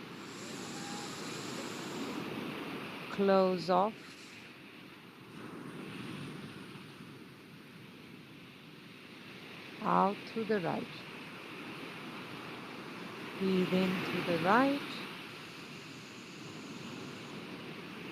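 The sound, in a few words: played ocean wave sounds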